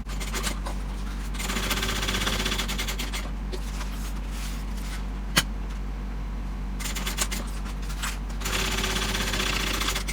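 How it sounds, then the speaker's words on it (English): A sewing machine runs top stitching along either side of a handbag seam, its steady motor hum coming in several bursts with short pauses between runs and a sharp click midway. "top stitch on either side of this seam"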